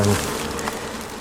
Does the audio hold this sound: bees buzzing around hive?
yes